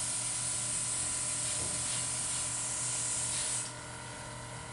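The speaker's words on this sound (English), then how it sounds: "Turn on my airbrush. I'm just gonna apply this white first." An airbrush sprays white paint as a steady, close hiss with a faint compressor hum beneath, running for most of the moment before dropping to a quieter hiss near the end.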